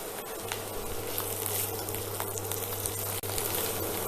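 Chopped mushrooms frying in a pan with garlic for risotto, a steady close sizzle and crackle with no talking.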